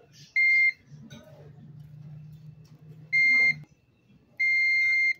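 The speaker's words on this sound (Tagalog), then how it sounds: "Gamit po tayo ng buzzer test." A multimeter's continuity buzzer gives three short, sharp electronic beeps at uneven intervals while testing a TV main board, with faint handling noise and a low hum in between.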